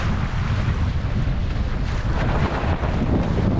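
Strong, gusty force-6 wind roars across the microphone while sailing a dinghy on open water, a loud, steady, dense rush that fills the whole clip with no talking.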